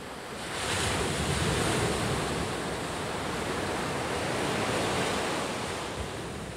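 Ocean surf breaks on the beach at Dominical, Costa Rica, with a broad continuous roar that swells and eases. The waves sound loud and near, and wind rushes across the microphone.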